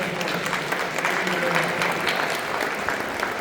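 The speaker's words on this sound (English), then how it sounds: "let's give a big round of applause to all the volunteers who came to" Steady clapping from a crowd at an awards ceremony, honoring volunteers, a dense continuous patter of many hands that holds at an even level throughout.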